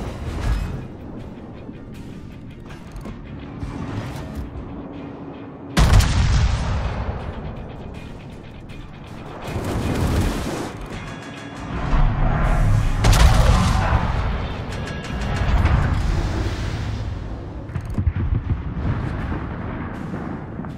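Heavy warship guns from the battlecruiser HMS Lion fire in World of Warships, with booming salvos at intervals over a dense, continuous rumble of naval combat, loud and close.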